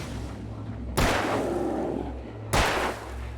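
Two loud, booming gunshots in the video game Alan Wake, about a second and a half apart, each followed by a reverberant tail over a low background rumble.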